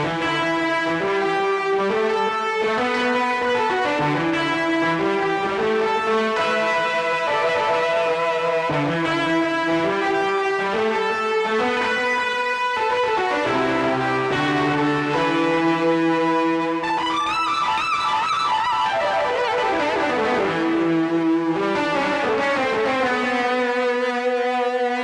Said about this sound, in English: This next program utilizes some of Soundpaint's distortion effects, and I called it Glorious Fuzz.